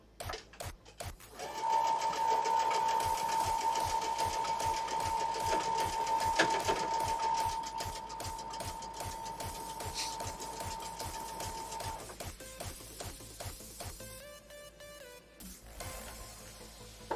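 A sewing machine chain-pieces quilt blocks in one long continuous run, its rapid rhythmic stitching steady and close, with a thin whine above it, then slowing and stopping near the end.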